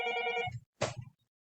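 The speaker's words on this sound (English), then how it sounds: "Phone is ringing." An old-style telephone bell rings in a loud metallic burst, stops, then gives a second shorter ring nearby in a quiet room, with no talking.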